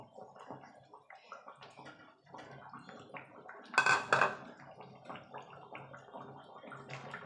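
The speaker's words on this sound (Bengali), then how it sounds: "মাছগুলো দিয়ে মিনিট খানিক আরও ফুটিয়ে নেব" Fish kalia curry gravy with pieces of rohu fish bubbling in a pan, soft irregular bubbling and plopping close by, with a louder gurgling burst midway.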